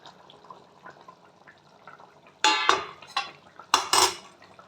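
Mashed fish spooned into curry gravy in a metal pan, with a few sharp scrapes and clanks of a utensil against the pan amid soft wet stirring.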